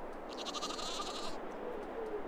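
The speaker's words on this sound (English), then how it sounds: "And here we have the goat. This is, oh, this is the male goat," Male goat in Farming Simulator 22 bleating in a short wavering call at moderate distance over a steady ambient farm background, followed by faint quieter calls.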